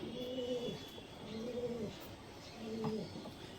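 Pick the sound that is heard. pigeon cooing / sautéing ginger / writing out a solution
pigeon cooing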